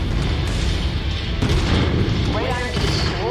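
Explosions in the MechWarrior 5: Mercenaries video game as a radar installation is destroyed, a loud, dense wash of booming blasts and weapon fire running throughout under someone talking.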